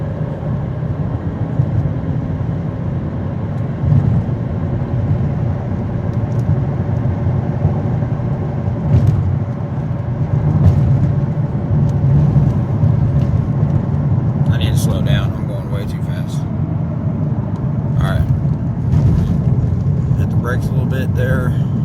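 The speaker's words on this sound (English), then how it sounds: "It does have some highway noise, but that's probably from the sound deadening being removed over here." Road noise inside a moving 2004 Chevy Impala with sound deadening removed, a steady, loud, low rumble throughout with occasional faint rattles and ticks.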